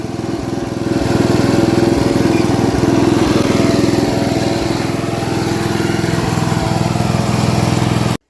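Ford LT80 lawn tractor with a badly worn carburetor, its small engine running and driving, a loud steady close drone with no talk.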